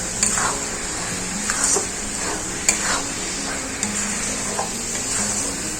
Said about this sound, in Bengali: এইভাবে আমি পাক দিতে থাকবো এটা সব সময় নাড়তে হবে তলায় নাড়লে বসে যাবে